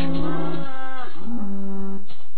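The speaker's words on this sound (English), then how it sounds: "Okay, so we have three new cows." Cows moo in Minecraft, several blocky in-game calls: two drawn-out, tonal moos in a row, loud and close, with no talking over them.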